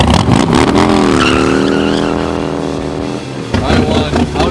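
A Harley-Davidson motorcycle revs hard during a burnout, a loud rising and sustained engine roar with a harmonic whine that fades slightly before another burst, up close.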